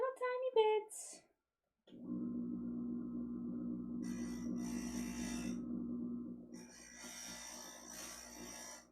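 A stained glass grinder shaving small bits off the edge of a glass piece in a she-shed studio, a steady buzzing whir lasting several seconds with gritty scraping on top, after a brief spoken moment and a short pause.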